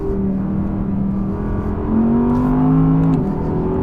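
Audi R8 V10 Quattro Performance engine pulling hard from inside the cabin, a loud steady drone that rises in pitch as the car accelerates, with a brief shift near the end and no talking.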